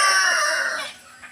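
A labuyo jungle fowl rooster gives a single loud, close call that starts bright and strong and fades over about a second, with no talk around it.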